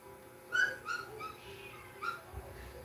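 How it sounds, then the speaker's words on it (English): A puppy outdoors on a terrace gives a few high, thin whimpering cries in short bursts, quiet against a faint background hiss, with a brief low thump near the end. "My puppy outside in my terrace"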